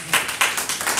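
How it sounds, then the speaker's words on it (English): Church congregation clapping during a prayer service, a few close, sharp hand claps in a loose rhythm, about four distinct bursts over a second with reverberant room tone between them. "Let us give Jesus a clap offering."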